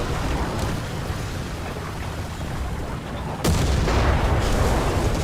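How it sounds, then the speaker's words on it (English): An artillery strike landing right beside a T-34E STZ tank in War Thunder: a dense rumbling barrage, then a sudden loud impact that leaves a heavier roar. "Guessing it was artillery. It just hit right next to me."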